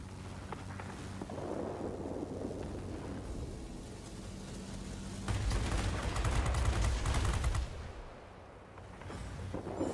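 Bf 109 K-6 aircraft guns firing in World of Warplanes, rapid bursts of cannon and machine-gun fire over a droning engine, with a louder sustained volley in the middle before it fades.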